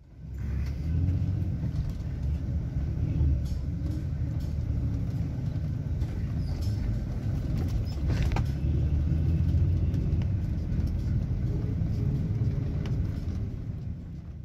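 A bus rolls along a road in Ecuador with a steady, loud low rumble of engine and tyres heard from inside the cabin. Scattered rattles and knocks sound over it, and no one speaks.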